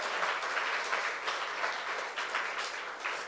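Church youth congregation applauding during a sermon, a continuous, moderately quiet wash of many hands clapping with gentle swells, heard alone without speech.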